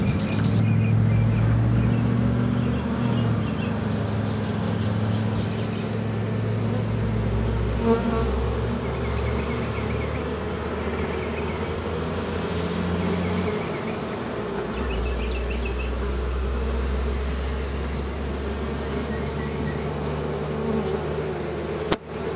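A wall colony of bees, queens among them, hums loudly and without a break in a dense swarming drone that goes on for over twenty seconds, with no voices.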